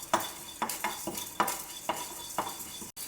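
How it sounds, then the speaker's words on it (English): Chana dal and moong dal are dry roasted in a pan and stirred, with rhythmic scraping strokes of a spoon about twice a second, close and clear, and no speech. "1 teaspoon of Channa dal. Dry roast these for a couple of minutes."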